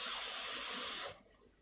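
Tap water runs in a steady hiss into a sink while Navajo taco dough is being mixed at home, loud and continuous for about a second before cutting off, leaving a faint clink.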